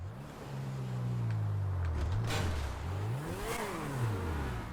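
Car engines rev and accelerate loudly in a GTA V race, with pitch sweeping down and up in repeated surges and a sharp crash-like burst midway, sustained and close throughout.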